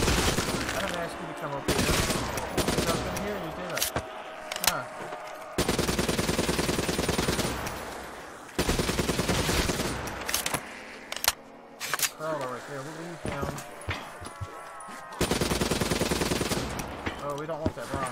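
Rapid automatic gunfire in Black Ops III Zombies on the Rust map comes in several long bursts with short gaps, loud and sustained, mixed with game sounds and occasional talk.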